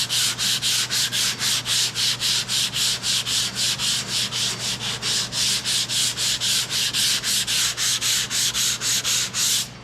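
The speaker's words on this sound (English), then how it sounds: "I'm trying to sand, not just focus on one area." A hand block sands body filler on a 70-81 second-gen Camaro door panel, producing a long run of fast, even rasping strokes, close and prominent, with a low background hum beneath.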